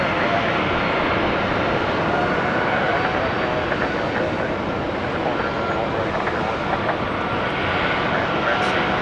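Airliner with big jet engines at Tampa airport, a loud, steady engine rumble and roar that persists throughout with no break.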